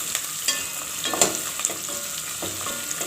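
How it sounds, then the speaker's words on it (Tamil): Sliced onions and green chillies sauté in a pan for sambar, giving a steady, close sizzle with stirring scrapes and light clicks throughout, no voices. "அதையும் சேர்த்துட்டு லைட்டாக வதக்கி விடுங்க."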